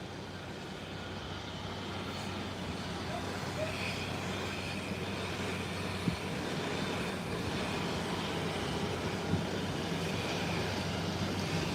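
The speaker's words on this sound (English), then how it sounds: "there's a JetBlue that just landed from Boston" Jet airliner noise near an airport runway, a JetBlue flight in from Boston just after landing: a steady, broad engine roar with a low hum holding at an even level throughout, with no talk.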